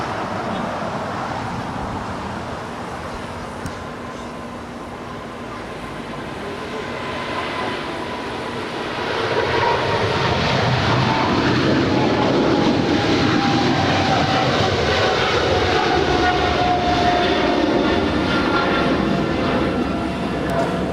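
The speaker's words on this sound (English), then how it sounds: "That is American 136 Heavy departing to London Heathrow. It's a 777-300ER." An American Airlines Boeing 777-300ER jet departs Los Angeles International Airport, its roar building from a distant rumble into a loud, sustained wash of engine noise with a rising whine, with speech faintly mixed in.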